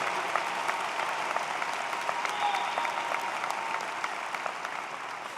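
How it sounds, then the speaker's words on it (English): Steady applause from a large audience at the Eberly College of Science Spring 2019 commencement ceremony, a dense, even wash of clapping that holds at full strength throughout. "Give them a round of applause, the great class of 2019"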